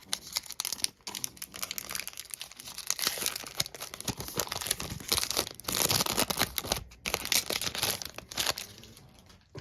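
A 2012 Panini Cooperstown baseball card pack is torn open, with loud close crinkling and tearing of the foil wrapper that continues in dense bursts for several seconds. No one talks.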